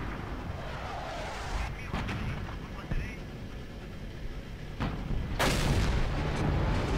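A tank cannon firing gold (premium) ammunition in World of Tanks, with broadband blasts, the loudest arriving near the end, layered over continuous game rumble and a speaking voice.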